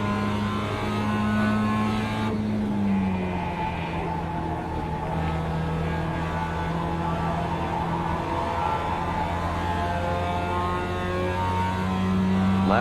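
Race cars in a video game race: a steady, moderately loud engine drone with a shifting pitch as the car accelerates and holds speed, with no talking.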